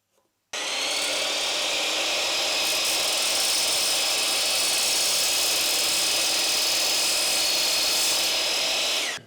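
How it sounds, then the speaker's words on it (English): Miter saw cutting router table fence tracks, a loud steady close whine and buzz that starts abruptly and holds for about nine seconds, then stops. "these tracks are still a bit too long. I'm gonna cut them at the miter saw."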